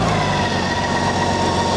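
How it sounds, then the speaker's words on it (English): BMW K1600GTL six-cylinder motorcycle engine idling smoothly, a steady, continuous hum with a dense low rumble, close and alone with no talk. "Six cylinder runs smooth as silk."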